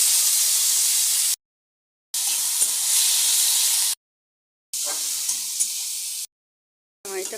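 Bottle gourd peel hits hot oil with black cumin, giving bright steady sizzling in several bursts separated by total silences, close and loud.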